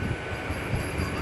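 Narasapur to Guntur passenger train rolling in, a steady low rumble of wheels and carriages throughout, continuous and without voices.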